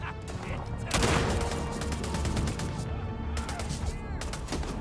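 Rapid video game gunfire, a dense run of sharp repeated shots layered over game noise and a chaotic battle mix, with a player talking now and then.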